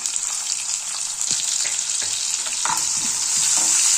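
Chopped onions frying in hot oil with cumin and mustard seeds for a soya palya, a loud continuous sizzle broken by occasional stirring scrapes and small pops, growing a little louder near the end.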